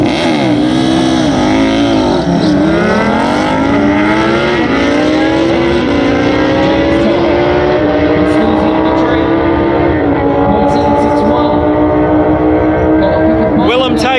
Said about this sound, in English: Going up against Willem on the ZX10.